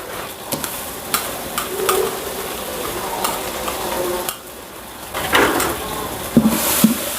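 Ginger and garlic stir-fried in a pot for a large batch of chicken curry for forty people, with a steady sizzle under repeated scraping and stirring knocks, close and moderately loud, no talk.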